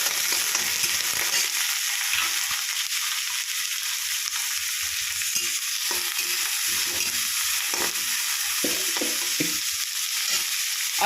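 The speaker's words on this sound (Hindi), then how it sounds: "आप जितना तीखा खाते हैं उसके हिसाब से मिर्चा, या जो प्याज मैं काटी थी उसे दे दी।" Chopped onion and green chilli sizzle steadily in a hot pan with a constant frying hiss and occasional stirring scrapes, close and fairly loud, with no talking.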